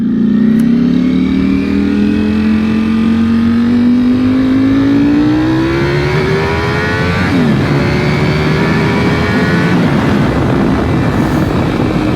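A Ducati V4 SP motorcycle engine revs while being ridden, loud and close, its pitch climbing steadily through the gear then dropping as it shifts and builds again.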